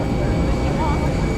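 Steady, loud broadband roar of a small airplane's engine at close range as passengers prepare to board, a continuous drone with no breaks.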